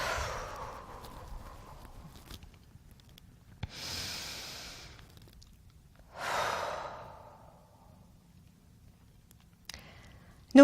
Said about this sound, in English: Take several deep breaths.